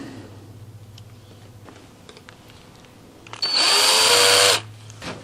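A 2.5 mm bit drilling out a hole on a VQ SBD Dauntless model build: a loud, steady high-pitched whine bursts in for about a second, then stops, after quieter handling noise.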